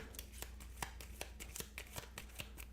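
A deck of baseball game cards is shuffled close up, a quick series of crisp riffling snaps in a steady rhythm, quiet and alone.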